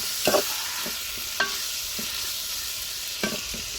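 Shrimp bhuna frying in a pan just after tomatoes go in, a steady hiss of oil throughout with a few sharp stirring scrapes spaced through the short stretch, close and fairly quiet.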